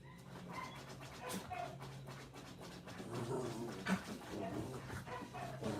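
Rescued dogs at an indoor doggy day care give off soft, scattered whimpers, yips and panting. The sound is faint and distant against a busy indoor background.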